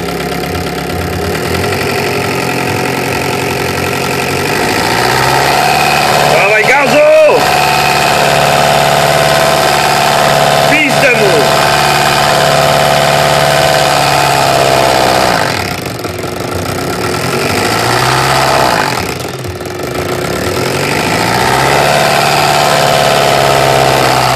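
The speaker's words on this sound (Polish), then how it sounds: "Mam taki mikser do ziemniaków, do mashed potatoes." An electric potato mixer motor hums and drones steadily for the whole stretch, rough and diesel-like, with a few brief dips and surges in pitch as it labors.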